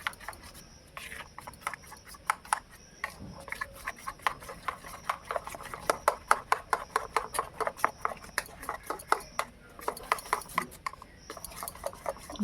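A spoon stirs and beats a batter of sour curd, gram flour (besan) and semolina in a bowl, giving a steady run of quick clinks and scrapes that grows busier midway, with no talking.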